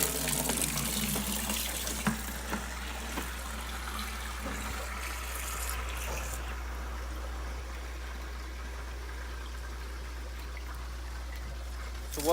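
Aquarium water is poured into a new fish tank, half from an existing tank and half fresh, making a steady splashing, trickling wash that runs continuously for the whole stretch.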